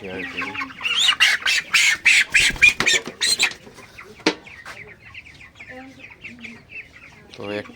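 A broiler chicken squawks and clucks loudly in a rapid burst of repeated cries while being weighed on a scale, then settles into fainter, scattered clucks. A voice briefly joins near the end.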